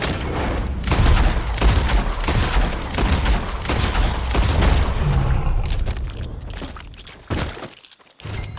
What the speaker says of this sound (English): He shot the thing!